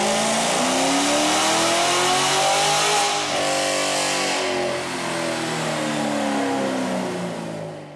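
A Ford Mustang with a 4.6-liter V8, sprayed with a 125-shot of nitrous, revs hard on a chassis dyno. The engine note climbs in a long, loud sweep, dips briefly, then pulls again before easing off.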